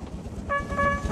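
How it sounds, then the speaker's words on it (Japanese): Thomas the steam locomotive's whistle in the Trainz railway game, a single sustained tonal toot that starts midway and holds to the end over a low rumbling background. "汽笛が聞こえた。 トーマスだ。"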